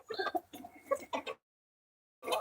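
Chickens and a rooster in a coop clucking in short, close bursts, a busy run of clucks broken by a brief silence before another begins.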